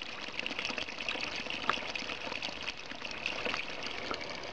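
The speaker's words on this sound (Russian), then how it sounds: "тропу преграждает еще один источник. Такой же идеально кристальной водой." Crystal-clear mountain spring water flows steadily beside an ancient stone wall on a forest trail above Yalta, a continuous close trickling gush with no voices.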